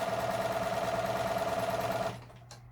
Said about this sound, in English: You take strips, you sew them together, long strips, straight sewing.